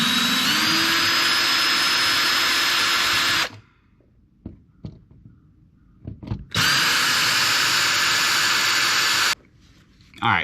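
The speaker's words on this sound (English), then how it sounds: "I'm lazy, I'll use a drill." A power drill whirs loudly in two sustained bursts of several seconds each, removing electrical outlet screws, separated by a pause filled with small clicks and handling noises.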